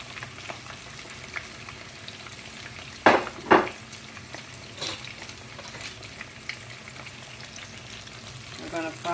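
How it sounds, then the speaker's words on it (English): Breaded super jumbo coconut shrimp fry in hot oil, a constant bubbling sizzle broken by a couple of sharp splashes and clatters as pieces go in, with a voice speaking over the cooking. "We're going to fry in there for about 3 minutes."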